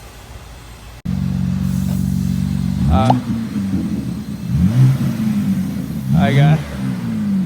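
A BMW G82 M4 with an S58 engine and stock intake idles steadily, then revs briefly twice with rising and falling pitch, close by, while a person talks over it.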